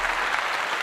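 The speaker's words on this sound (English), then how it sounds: "I want to give Shannon Sharpe a clap as well." A brief, steady burst of hand clapping, close and fairly loud, lasting under a second on a sports talk broadcast.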